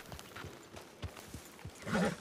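A horse's hooves clip-clop in a video game, a run of soft, evenly spaced thuds close by, ending with a brief tonal whinny-like sound.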